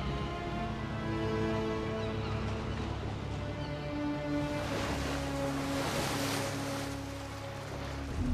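Ocean water churns and foams in a freighter's wake, a continuous rushing surf with a steady low engine drone beneath, swelling louder in the middle of the stretch before easing back.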